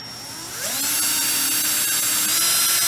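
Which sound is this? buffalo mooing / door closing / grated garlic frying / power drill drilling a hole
power drill drilling a hole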